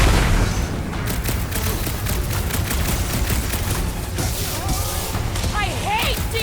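Explosion in the video game Guardians of the Galaxy, a loud booming blast that settles into rumbling combat noise and crackling bursts, with voices talking over it.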